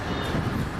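A metro train runs past nearby as a steady, loud rumbling roar that fills the whole moment without breaks.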